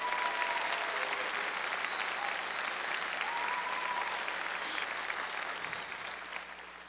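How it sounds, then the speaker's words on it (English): Steady, dense applause from a concert audience after a school choir and jazz group performance, fairly loud and continuous throughout, tapering slightly near the end with faint crowd murmur beneath. "Another round of applause for Dylan Parker and Emily Ignashik."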